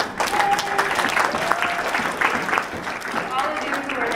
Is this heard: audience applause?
yes